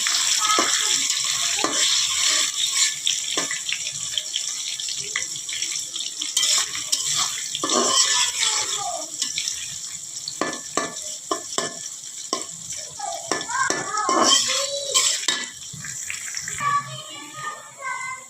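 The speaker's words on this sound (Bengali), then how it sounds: "এখন আমি দিয়ে দিচ্ছি পেঁয়াজ কুচি" Chopped onions fry in a pan, a loud, close, continuous sizzle with scraping stir strokes and spatula clatter throughout, no talk.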